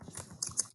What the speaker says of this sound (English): So I'm going to type that sentence here.